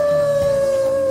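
A dog howls in the video game Ultimate Chicken Horse as one steady, sustained, loud tone that holds for about a second with no talking over it.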